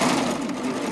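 A serger overlock machine runs steadily while it cuts and stitches fabric, a fast, even mechanical whir that is close and continuous through the whole moment.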